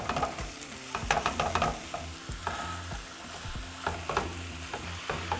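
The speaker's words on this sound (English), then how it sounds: "So now just begin to break your meat down." Ground beef seasoned with minced garlic, salt and spices breaks apart and fries in a pan, a close, steady sizzle with repeated scraping stirs of a utensil.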